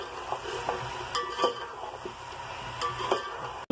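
Chicken pulao ingredients sizzle as they are fried and stirred in a pot, with a steady frying hiss and a run of scraping stir strokes at an irregular rhythm, close by and without talk.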